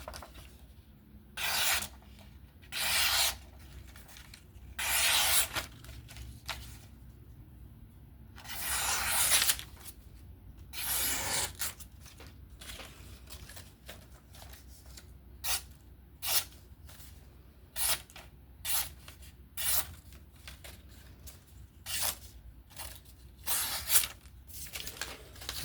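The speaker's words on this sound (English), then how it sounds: "Alright, so that was the sharpening results." Freehand sharpening of a Kizer Varatas folding knife with a titanium handle and S35VN steel blade: a series of short, crisp rasping strokes in an uneven rhythm, close and moderately loud, with quiet gaps between them and no talking.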